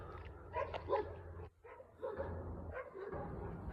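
Dogs bark from behind a fence outdoors, a few irregular woofs and yips at moderate distance, fairly faint.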